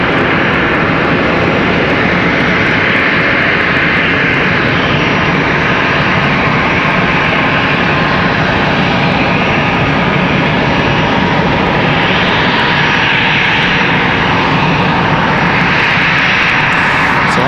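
Airplane engines roar at Charlotte Douglas airport, a loud, steady, continuous drone that holds for the whole stretch with no voices over it.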